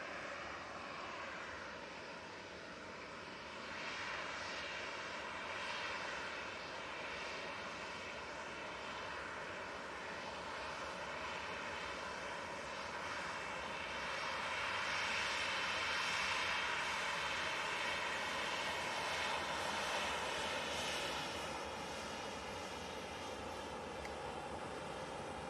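A Ryanair jet departing Manchester Airport for Faro gives a sustained, moderately distant engine roar and whine, swelling gradually toward the middle, with no speech.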